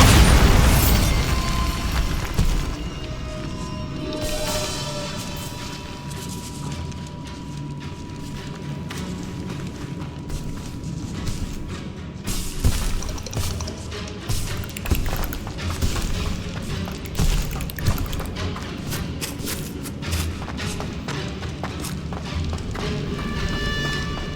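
Bombarda explosive spell blasts in Hogwarts Legacy, an opening boom followed by a long stretch of rumbling, crackling debris and scattered thuds under steady game ambience.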